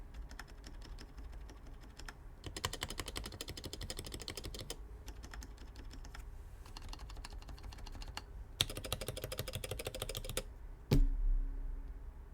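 Someone types on a YMDK M0110 mechanical keyboard kit fitted with GMK keycaps, producing close, rapid bursts of clacky keystrokes broken by brief pauses, with a heavier thump near the end.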